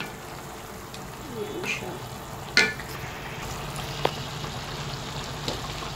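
Chicken adobo frying in a pan just after soy sauce goes in, with a steady low sizzle and a few scraping stirs, one louder clatter midway, while a voice talks briefly over it.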